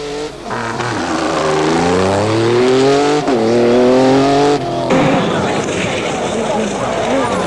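A loud V6 engine in a Nissan crew cab rally truck at the 2002 Dakar Rally revs hard and climbs through the gears up close, exhaust spitting flame, with a commentator talking over it and rising pitch.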